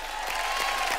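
Studio audience applause at a televised comedy show comes as a brief, dense burst of clapping that carries on for about a second.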